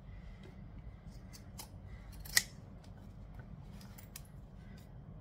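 Zigzag scissors snip through fabric during work on a sewing project, with one sharp, close cut standing out against a quiet background and a few fainter snips scattered around it.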